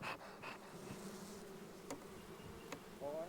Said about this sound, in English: Got a lot of bees here too.